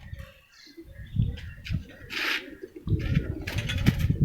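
Pigeons cooing close by in soft, throaty bursts, a few repeated low calls with brief pauses and light handling noise, as the birds are held for painting.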